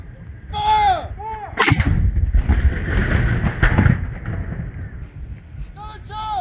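A single cannon shot from a 21-gun salute at a rainy Remembrance Day 2024 ceremony: a loud, sharp blast followed by a long rolling rumble. Shouted commands are heard before and after it.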